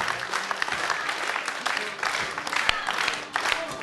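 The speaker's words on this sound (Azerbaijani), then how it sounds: "Həqiqətən alqışlara dəyər." An audience applauding together, a dense crackle of many hands clapping that holds steady for several seconds, close and fairly loud.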